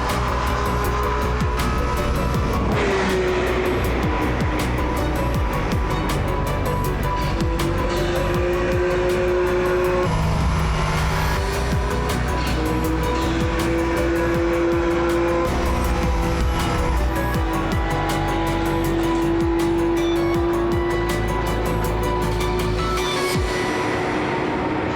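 McLaren P1 street car with a Formula 1-derived engine driving at speed on a track, a loud continuous engine roar with rising and falling tones as it accelerates and shifts, filling the whole stretch with no talk.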